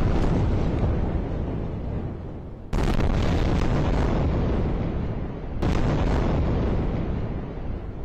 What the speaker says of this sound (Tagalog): Malalakas na pagsabog ang umaalingaw-ngaw.